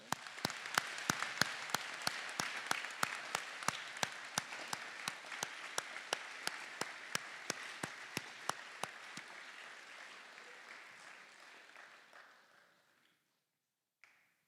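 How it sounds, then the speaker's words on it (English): A school assembly audience applauds veterans at a Memorial Day ceremony, a steady round of clapping with sharp individual claps standing out, gradually thinning and fading to silence near the end. "Let's give them a round of applause today."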